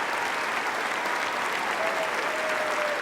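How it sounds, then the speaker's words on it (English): Members of Congress give the Pope rapturous applause in the Capitol chamber, a dense, sustained wash of clapping from a large crowd that stays at an even level throughout. "The first pope ever to set foot in the Capitol was greeted with rapturous applause."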